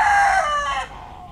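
A Tagalog gamecock rooster lets out a single loud, close crow that rises and then trails off, with no talking over it.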